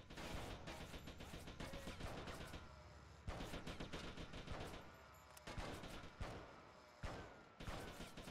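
Gunshots fired at an explosive barrel in GTA Vice City, loud repeated bursts of shots in quick runs separated by brief pauses, with no talking over them.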